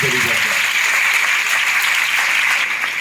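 Steady applause from a crowd at a public event fills the whole stretch, clapping dense and even throughout.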